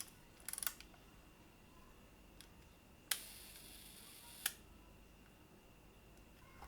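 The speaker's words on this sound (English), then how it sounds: "I have to press the shutter button twice to cock the shutter again" Faint mechanical clicks from a 1961 Konica S2 camera come against a quiet hiss: a small cluster of ticks as the shutter is cocked, then two sharp separate snaps a second or so apart as it fires.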